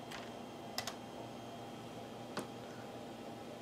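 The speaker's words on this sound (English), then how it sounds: "Let's type DIR." A few sparse keystrokes on a computer keyboard, typing a short command at a Windows prompt, sound as faint soft clicks over a low background hum.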